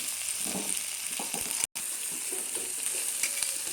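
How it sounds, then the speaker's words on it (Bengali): Crushed garlic, onion, green chillies and dried red chillies fry in a pan while being stirred, giving a steady close sizzle with faint scraping and one brief dropout, and no speech. "এখন একসাথে ভাজা ভাজা করে নেবে লেড়ে চেড়ে"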